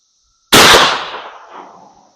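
.410 shotgun fires a hollow point slug loaded backwards outdoors, a single sharp loud blast after a moment of quiet, with its report decaying and echoing over about a second and a half.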